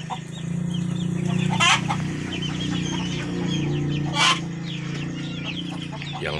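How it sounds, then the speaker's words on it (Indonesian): Free-range village chickens cluck and murmur steadily at a moderate distance, with two sharper squawks standing out over a constant low farmyard hum. "beternak ayam kampung"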